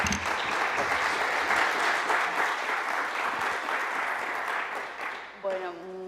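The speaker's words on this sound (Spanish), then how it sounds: "Solamente os pido un aplauso de bienvenida para ellos." Welcome applause from an audience at a literary talk in the Ciclo Encadenados series, a dense, steady clapping that carries for several seconds before fading as a voice begins speaking near the end.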